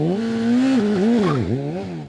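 An MV Agusta F4 RR sport motorcycle engine revving loud and close, its pitch climbing, dipping sharply and rising again across a couple of seconds.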